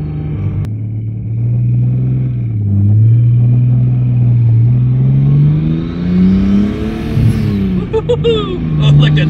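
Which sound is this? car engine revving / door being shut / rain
car engine revving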